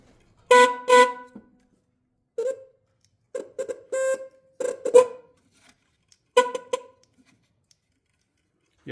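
The horn from a 2011 C6 Corvette, powered from a 12-volt supply, sounds in about seven short, loud, separate honks with irregular gaps and silence in between.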